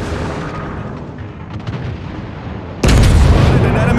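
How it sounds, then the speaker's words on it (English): Naval artillery guns fire at an enemy warship in a sea-battle video game, a rumbling barrage of booms that swells into a sudden loud, dense blast of gunfire near the end. "Concentrate fire on the enemy warship."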